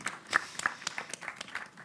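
Scattered audience applause at a panel discussion, a thin spread of individual claps rather than a full ovation, moderately loud and close, with a few sharper claps standing out.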